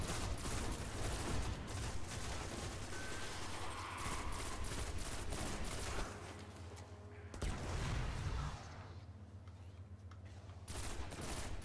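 Gunfire rattles through a firefight in the video game Destiny: Rise of Iron, sustained volleys and bursts layered with explosions and game effects over the whole stretch, with no talk.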